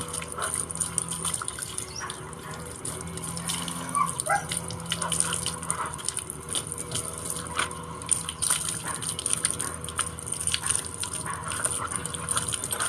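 A young male stud dog being bathed at home: water running and splashing steadily from a tap or hose, close by, with rustling and handling noises throughout.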